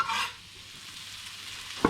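Chopped garlic sizzling in a pan with tomatoes as it is stirred, a soft frying hiss with a brief scrape of the utensil at the start and another at the end.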